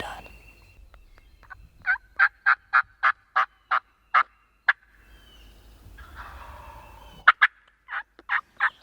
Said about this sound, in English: his gobble sounded louder and louder